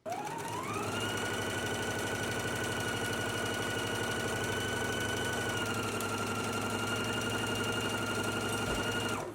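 A sewing machine runs a 5/8-inch seam, spinning up quickly and then holding a steady, close, rapid motor whir and stitching rattle for several seconds before stopping, with no voices.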